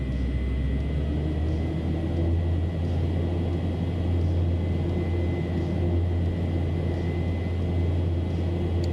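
Engines of a ToLiss A340-600 airliner in the MSFS flight simulator game give a steady, close, continuous low rumble and whine that holds constant throughout, with no speech.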